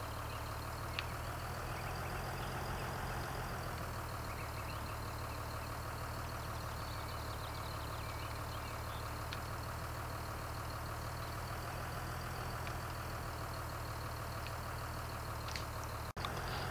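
An Ursus tractor's engine idles steadily in Farming Simulator 2013, a constant mid-to-low drone with a faint whine, even and uninterrupted throughout, with no talk.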